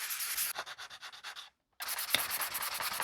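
A sanding block rubs back and forth over a prop blaster part in quick, even strokes, close and crisp, with a brief pause midway before the rhythmic scraping resumes.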